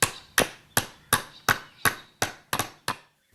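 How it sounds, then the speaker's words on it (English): A hammer drives a nail into wood with nine evenly spaced, sharp, close strikes and a brief double hit near the end, each blow ringing and decaying before the next. "The full shank of the nail is driven in."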